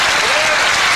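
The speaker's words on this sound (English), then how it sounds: "And the crowd gives him a very warm reception for that victory." Loud, dense crowd applause fills the hall at the 1995 World 8-Ball Championship, a steady wash of clapping greeting a player's victory.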